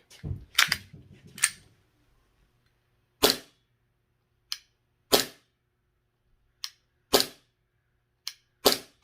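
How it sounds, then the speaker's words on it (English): A pistol fires at a shooting range with the trigger reset between shots. Sharp, loud reports come first in a quick cluster, then singly about a second or so apart, with near silence in between. "if I'm at the range and I'm wanting to stay on the wall, I wait for that trigger reset and fire again"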